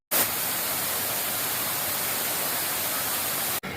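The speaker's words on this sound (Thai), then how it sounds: "น้ำตกสำโรงเกียรติครับตอนนี้น้ำใสไหลเย็นทีเดียวนะครับ" Samrong Kiat waterfall at Ban Samrong Kiat pours with a steady, dense broadband rush of clear water, loud and constant throughout before cutting off abruptly at the end.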